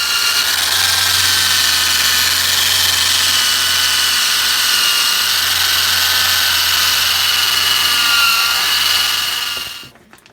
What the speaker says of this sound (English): So I'm working on cutting out all this bad area here, the frame rail.